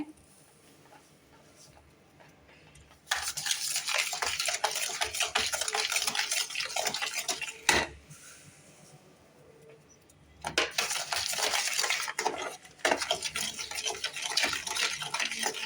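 Almond halwa with sugar being stirred in a pan, a spoon scraping and clinking in steady bursts, close and moderately loud, with a quiet pause between two long stirring spells.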